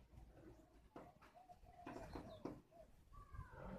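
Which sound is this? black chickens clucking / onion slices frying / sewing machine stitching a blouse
black chickens clucking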